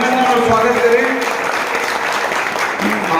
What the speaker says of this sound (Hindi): सभी लोग खड़े हो जाए, जोरदार तालियों से बस अभिनंदन और स्वागत करें।